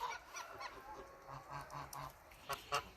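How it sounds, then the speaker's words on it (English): A farm goose honks repeatedly outdoors, a series of nasal calls of varying length, moderately near, with a few sharper honks toward the end over quiet background. "This goose is the appointed ambassador telling me that I'm late for chores."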